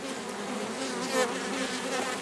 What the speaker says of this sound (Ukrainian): Бджола вентилює ляточки, щоб, щоб не було дуже жарко.